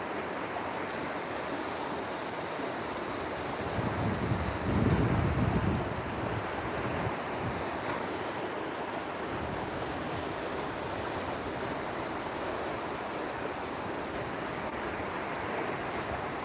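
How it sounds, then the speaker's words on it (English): Rough, muddy brown water churns and crashes in a steady roar mixed with wind rumble, swelling briefly louder partway through, with no talk. "the water is in chaos."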